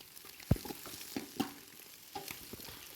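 Fried chicken is mixed into chicken fried rice in a pan, a few scattered scraping knocks of a spatula over a faint low sizzle, quiet and close, no voices.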